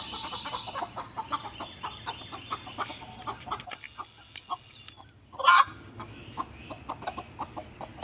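Hens and chicks in a farm coop cluck and fuss close by in a busy rhythm of short calls, with one louder squawk partway through and no talking.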